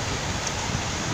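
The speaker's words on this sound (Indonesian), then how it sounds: "Hujannya mah nggak gede, angin ya." Wind blowing outdoors in light rain, a steady broadband rush buffeting the microphone without letup, loud and close for about a second.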